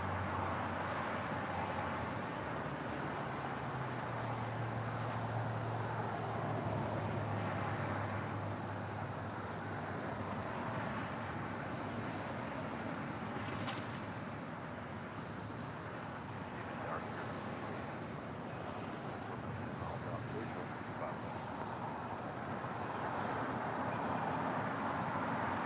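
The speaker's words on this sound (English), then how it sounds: "It's the Qantas Dreamliner coming from Melbourne, about to touch down at 25 left." A Qantas Boeing 787 Dreamliner arriving from Melbourne lands on runway 25 left, a faint, distant, steady jet roar blending with wind noise throughout, with no distinct touchdown moment.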